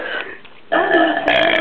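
A person burps loudly at close range in two drawn-out belches, the second following a brief lull, with no talking over them.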